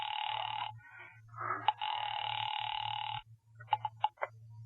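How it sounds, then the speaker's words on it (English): Old-style telephone ringback tone heard down the line while a call is placed to the police department, repeating in long buzzing bursts over a low hum, with brief clicks near the end. "Ringing the police department."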